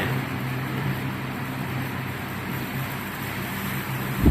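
A small electric motor under IoT control runs with a steady, even hum at constant level, ending in a short thump.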